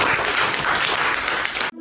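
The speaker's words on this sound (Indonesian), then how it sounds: "Kita beri tepuk tangan semuanya." A classroom of people clapping steadily and densely, like a room full of applause, fairly loud and continuous before cutting off abruptly.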